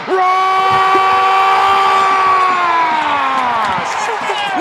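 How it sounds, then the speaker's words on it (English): A soccer stadium crowd roars after a goal, loud and sustained, with a sustained whistle-like tone gliding above the noise and a commentator talking over it. "the crowd is going crazy in the capital of California"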